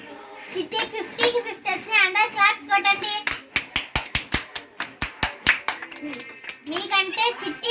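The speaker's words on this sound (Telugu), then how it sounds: "అందరు క్లాప్స్ కొట్టండి" Schoolchildren in a classroom break into a quick burst of about fifteen sharp, loud claps, with children's voices chattering before and after.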